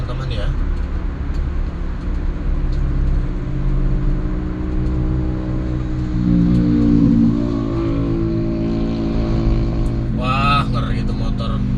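A motorcycle passes close on a night road and cuts in ahead, heard inside a car with a steady engine drone and traffic rumble; a brief louder whir rises near the end.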